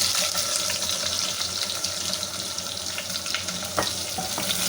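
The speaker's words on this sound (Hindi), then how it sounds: "ऑयल हमारा गर्म हो चुका है। अब ये जो हमने 1 प्याज लेके काटा था ये इसमें डाल देंगे" Chopped onion dropped into hot oil for a mutton curry, giving a steady, close hiss and sizzle with scattered crackles throughout.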